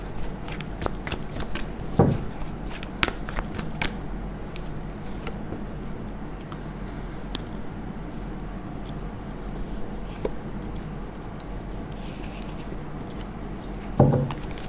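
Tarot cards shuffled close up, a rapid run of crisp riffling flicks early on, then quieter sliding and tapping with a few louder card slaps.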